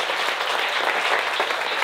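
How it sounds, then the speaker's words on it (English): Audience applause at a stand-up comedy show in Türkiye, a steady, dense wash of many hands clapping close and loud throughout, with no talk over it. "round of applause one more time for the couple over there."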